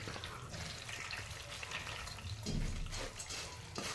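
Water is poured over puffed rice to soak it, making a faint, steady splashing trickle with a soft gurgle partway through.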